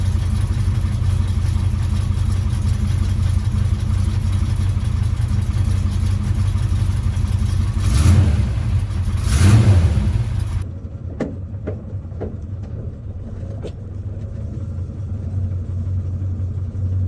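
A 1985 Chevy C10 Silverado truck engine with a mild cam idles in a steady low rumble, swells briefly twice, then settles into a quieter idle with a few sharp ticks.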